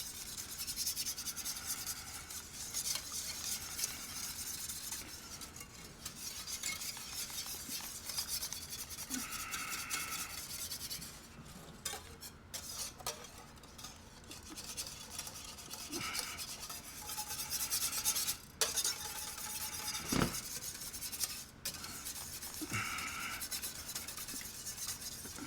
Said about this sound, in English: So you just kind of want to add liquid slowly to it. Stir it all around.